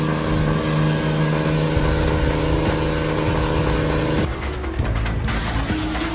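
A Holzhacker-branded wood chipper crushing logs: a loud, continuous engine drone with tonal harmonics, shifting into rougher, strained grinding and rapid chopping bursts near the end.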